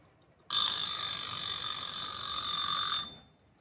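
A small bell alarm on a battery-free mechanical kitchen timer rings steadily for about two and a half seconds, a bright metallic trill that starts abruptly and fades out.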